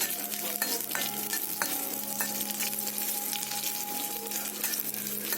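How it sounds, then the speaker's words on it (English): Okra frying in hot oil for a curd-based curry, a steady close sizzle with occasional light stirring clicks and no voices. "Now we'll add the bindi in it. We'll fry the bindi in the oil."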